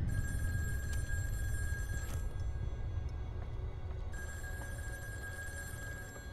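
A phone rings inside the horror game In Sound Mind, a long bright electronic trill that cuts off, then starts again after a gap, all over a constant low rumbling ambience with no voices.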